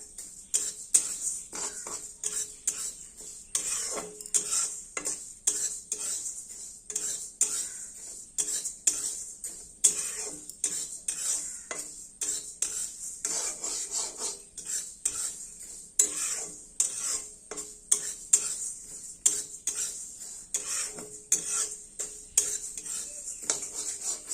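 Lentils for Gobindobhog rice khichuri are dry-fried in a pan, with a spatula scraping and clinking against the metal in a steady repeated rhythm and only a faint sizzle beneath.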